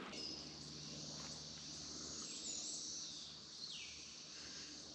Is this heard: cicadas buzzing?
yes